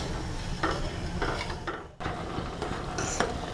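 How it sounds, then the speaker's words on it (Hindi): Sugar and water being stirred in a pan over medium heat to make syrup: quiet, repeated scraping strokes over a soft, steady background. "मीडियम आंच पर चीनी और पानी को अच्छे से मिलाते हुए हम तब तक पकाएंगे जब तक कि चीनी इसमें घुल नहीं जाएगी।"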